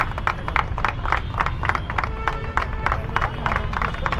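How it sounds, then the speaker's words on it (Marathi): A gathered crowd at an honouring ceremony claps to welcome an honoree, a steady, rhythmic burst of unison hand claps that repeats evenly at a moderate distance. "सगळ्यांनी जोरात टाळीच्या गजरात स्वागत करा"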